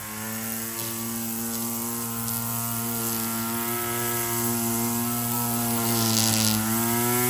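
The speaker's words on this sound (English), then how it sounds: "There goes that tree cutting service again." Steady mechanical drone of tree-cutting machinery running outside a mobile home, a continuous harmonic hum holding at a constant level throughout, with no talk.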